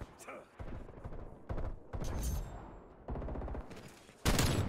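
Video game gunfire comes in short bursts of rapid shots, loud and close, separated by brief pauses, with a final sharp burst at the end.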